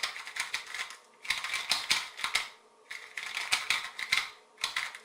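A small MGC 2x2 speed cube turned quickly in the hand, giving bursts of dry plastic clicking and clattering with short pauses between rapid turning sequences, close and fairly clear.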